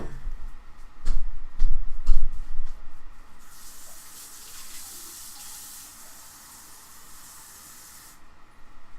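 A sink tap runs with a steady hissing spray of water after several knocks and thumps, then shuts off near the end.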